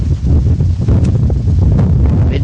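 Strong wind buffeting a camera microphone outdoors at a horse training arena, a loud continuous low rumble with gusty surges throughout.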